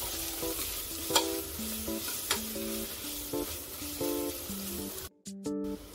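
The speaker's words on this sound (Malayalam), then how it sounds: "ഇതെല്ലാം കൂടി നമുക്കിനി വഴറ്റി കൊടുക്കാം" Ground chilli, coriander and garam masala powders are sautéed in a pan for a prawn curry, with a soft sizzle under repeated scraping stirs, close and moderately quiet, and a brief clatter near the end.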